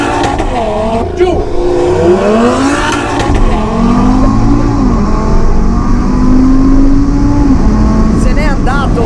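An Audi RS3 and a Jaguar I-Pace launch in a drag race, with a loud, close engine roar climbing through rising revs, tire noise and shouting over the top.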